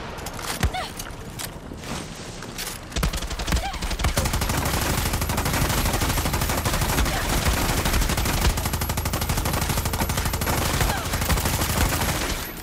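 Sustained automatic gunfire from a firefight in the video game Far Cry 6, rapid bursts running loud and nearly continuous after a brief quieter opening, with a faint voice underneath.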